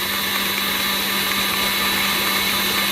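An electric mixer churning whipped cream into butter, a steady loud motorized whir with a constant hum and no break, close to the bowl.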